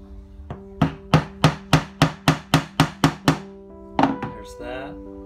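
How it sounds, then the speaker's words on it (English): Ten evenly spaced hammer blows strike a tool pressed over grooved metal while making a bank roll, loud and close with a steady rhythm, followed by a couple of scrapes and clinks. "it will be hammer time."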